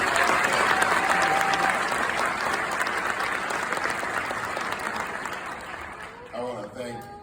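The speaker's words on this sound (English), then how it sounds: "Can we give our Secretary a round of applause" A House inauguration audience in Illinois gives the Secretary a sustained round of applause, dense steady clapping throughout that tapers near the end, with a faint voice surfacing over the fading claps.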